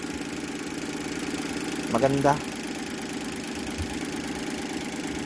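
A Suzuki DA17V minivan engine idles with a steady low hum, and a voice briefly speaks over it partway through.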